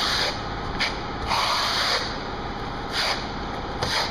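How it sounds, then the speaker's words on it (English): A trowel scrapes material tightly over a brown coat of exterior plaster in steady, continuous passes, close and fairly loud, with brief swells as each stroke begins, and no voices. "You want to hear the noise of your trowel going over your brown coat."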